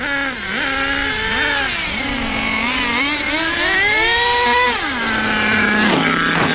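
An HPI Savage nitro RC car engine, its sleeve scratched, screams at high pitch nearby, its revs rising and falling in repeated swoops before settling to a lower idle, with no talking.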